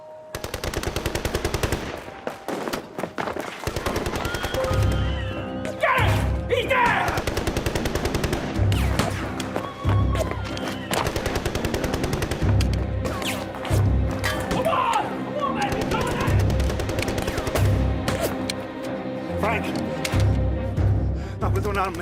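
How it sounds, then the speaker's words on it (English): Machine-gun fire in a 1916 Dublin street battle against British forces, dense bursts of rapid shots running almost continuously over more than twenty seconds, loud and close, with voices and other thuds mixed in. "We can't move in the street with them firing down on us."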